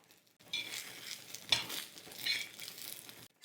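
Garlic and ginger sizzle and crackle in a hot pan for a village-style black-masala mutton curry, with stirring scrapes and a sharp clink partway through, close and fairly loud, then the sound cuts off.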